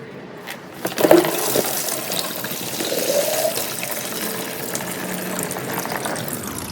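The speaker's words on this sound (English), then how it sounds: "So basically, you just want to let that drain out a little bit." Coolant drains from a radiator hose on a 2009-16 Suzuki GSXR 1000 into a drain pan: a sudden splashing gush, then a steady trickling pour of liquid close by.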